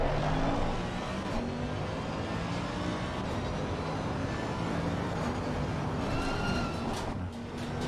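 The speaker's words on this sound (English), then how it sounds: "Got a nice noise to it, the Mercedes," A steady, droning Mercedes engine in a racing video game hums continuously at moderate volume, with occasional higher revving tones near the end.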